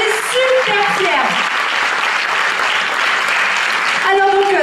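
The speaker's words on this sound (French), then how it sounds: "Vous pouvez vous applaudir" Audience applause fills a Miss Côte d'Or 2018 beauty pageant evening in Châtillon-sur-Seine, a steady, dense clapping that holds for several seconds, with a voice talking over the start and the end.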